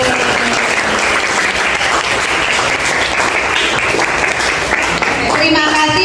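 Students clapping together during a classroom ice-breaking game, a loud dense burst of rhythmic hand claps lasting the whole stretch, with voices calling out near the end.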